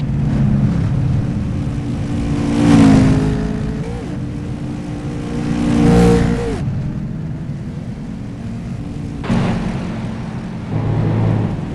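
Race cars on the pace lap at Daytona drone past in loud, close waves, engines swelling and fading repeatedly in a throaty rumble.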